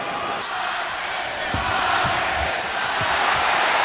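Boxing arena crowd at the Marquez vs Bradley fight chanting Mexico, a dense roar of many voices with rhythmic chant swells and scattered thumps, loud and sustained.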